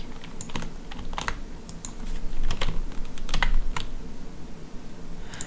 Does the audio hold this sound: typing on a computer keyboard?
yes